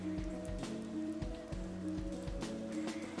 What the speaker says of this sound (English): Sounds like rain.